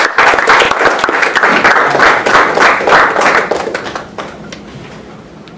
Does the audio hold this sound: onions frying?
no